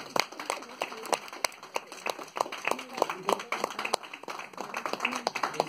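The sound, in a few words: workshop audience clapping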